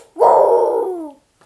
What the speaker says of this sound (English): Then he started barking.